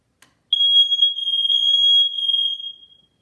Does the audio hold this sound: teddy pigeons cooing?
no